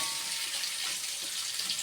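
Potato pieces with turmeric frying in a generous amount of oil make a continuous, even, close-up sizzle with soft crackles and no other sounds.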